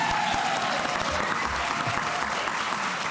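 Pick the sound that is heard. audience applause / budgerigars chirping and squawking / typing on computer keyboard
audience applause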